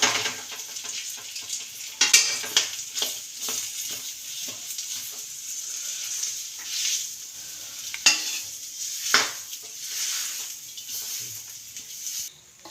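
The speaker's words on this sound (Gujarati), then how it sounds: "આપણે એકદમ મિક્સ કરી લઈએ." A spoon works through a sticky khajur pak date mixture with nutmeg powder in a pan on the stove, giving repeated scraping strokes over a soft sizzle, with occasional sharp clinks against the metal.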